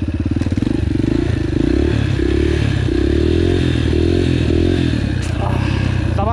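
A Yamaha TTR motorcycle runs steadily and loud at low revs during wheelie practice, its engine note pulsing with small throttle changes and some mechanical clatter throughout.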